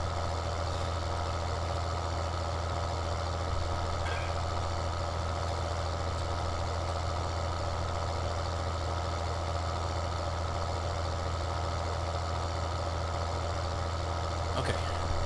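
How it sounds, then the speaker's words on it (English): A tractor engine idles steadily in Farming Simulator 2013, a constant droning hum with a low tonal rumble that stays even and unbroken throughout, with no talk over it. "This tractor is fast."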